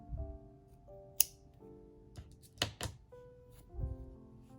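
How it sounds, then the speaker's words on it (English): Scissors snip off crochet yarn with a few light, crisp clicks and small handling taps close by in a quiet room. "and I'll cut off this yarn."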